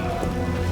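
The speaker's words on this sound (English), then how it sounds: "real downpour." Steady rain downpour in The Witcher video game, a dense, continuous hiss of falling water with no breaks, heard alone over a brief stretch.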